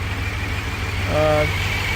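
A Chevrolet Monte Carlo's engine at first start-up: steady low rumble with a rhythmic throb, and a brief harmonic hum swelling in the middle; close and moderately loud.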